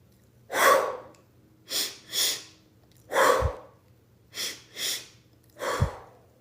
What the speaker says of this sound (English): take 2 quick, deep inhales